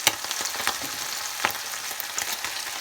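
Chicken tails deep frying in hot oil give a steady, close crackling sizzle with scattered sharp pops throughout and no voices.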